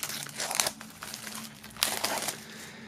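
Plastic shrink wrap film crinkles and crackles as it is peeled off a music box set, close and fairly loud, in two bursts with a quieter stretch between.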